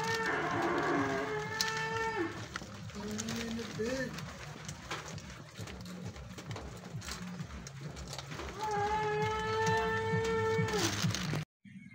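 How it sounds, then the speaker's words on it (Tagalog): Carabao (water buffalo) mooing in long, loud, drawn-out calls near the microphone, one at the start and another near the end, with softer animal sounds and background noise between. "Ingay si Kalabaw."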